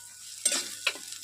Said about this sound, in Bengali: দিয়ে আমি একটু তেলের এটা নাড়িয়ে নেব